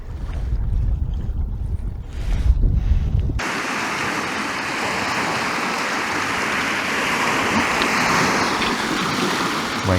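Wind and choppy waves on Lake Baikal heard from a kayak, a close, rough rumble giving way to a steady broad wash of water and wind noise on the microphone.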